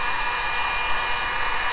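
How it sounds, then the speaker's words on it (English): A heat gun blows continuously while shaping EVA foam cosplay armor, a steady, loud, even whoosh with no breaks or talking. "you're going to use the heat gun on these."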